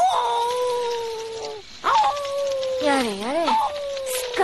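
A dog in a video game howls in long, wavering tones, several drawn-out cries rising and falling, loud and close with no speech over them.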